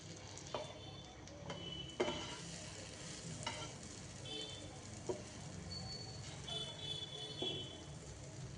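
Prawns frying in a pan for a prawn curry, a steady low sizzle with occasional clinks and stirring knocks, nothing else over it.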